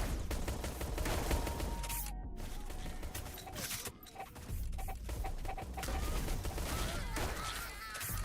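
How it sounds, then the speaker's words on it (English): Chicken clucking in a shooter video game, half-buried under dense, continuous gunfire and explosions that stay loud throughout. "Chicken."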